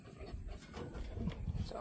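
Maremma sheepdog puppies on a Florida farm pant softly and rapidly up close, a quiet, breathy rhythmic huffing with faint shuffling and no speech.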